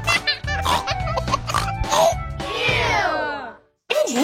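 A pig oinks repeatedly in close, loud squealing grunts, ending in a long rising-falling squeal, a brief pause, then another snort.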